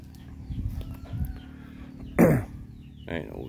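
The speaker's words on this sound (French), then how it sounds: "Il y a d'autres poules, des bébés ici, des poussins." Local native chickens and their chicks on a rural plot among banana trees, with faint clucking and peeping under a low hum, then a sharper, louder squawk midway and a shorter call near the end.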